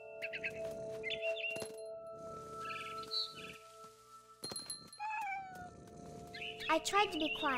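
A cat meows in What Remains of Edith Finch, several short mewing calls and one caterwaul-like cry over game ambience, with bird chirps and voices speaking in between.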